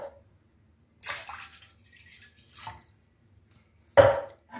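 Fresh cold water is poured into a pot of veal for blanquette de veau, with three short splashing bursts separated by quiet gaps, the last one loudest.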